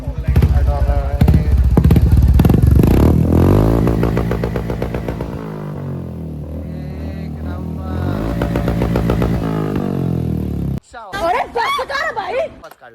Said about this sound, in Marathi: आपल्या गाडीचा आवाज बघूया भाई.